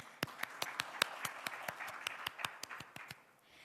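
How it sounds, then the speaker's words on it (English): Audience applause following a speech, heard as sharp, distinct claps at a lively pace from a small group, fairly close, thinning out and fading toward the end with no voices over it. "A huge round of applause for API."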